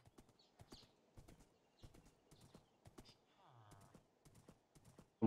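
Video-game horse hooves clip-clop in an uneven rhythm in Minecraft, close and crisp, with a short horse whinny midway; quiet background otherwise.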